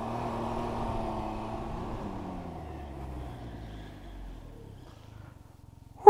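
Can-Am Ryker 900 Rally three-wheeler engine idling and pulling away, a steady low rumble with harmonic drone that slowly fades as it rides off, ending in a sharp close thump.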